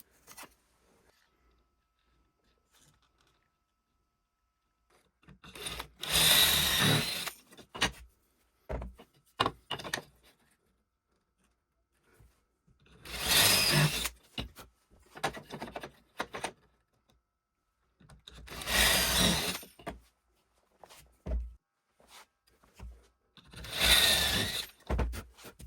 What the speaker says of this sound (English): I'm drilling 3 holes into the square ends of the upright